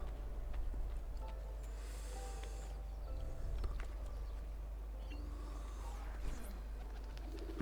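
Soft pigeon coos in the video game Assassin's Creed II repeat at a moderate distance over a steady low background hum, with no talking.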